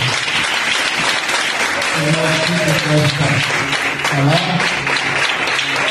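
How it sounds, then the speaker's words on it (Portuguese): A church congregation at a youth worship service breaks into loud, sustained applause that fills the room for the whole stretch, with raised voices calling out over the clapping. "Uma salva de palmas para Deus."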